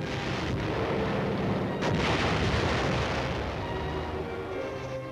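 Artillery fire in the Korean War roars as a dense, continuous barrage of heavy booms and rumbling blasts, loud and unbroken, with no talk.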